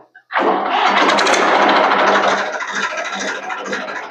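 A tractor engine turns over and settles into a loud, steady running rumble close by, easing slightly toward the end.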